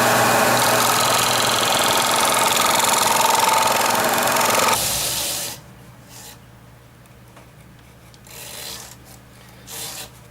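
A gouge cuts Brazilian pepper tree wood on a lathe with a loud, steady, rough scraping whir, then the cut stops and only a quieter motor hum and a few faint light scrapes remain.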